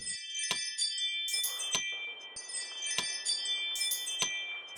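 House keys left in a front door jingle and clink repeatedly in bright, metallic bursts with short pauses between, heard close and fairly quiet.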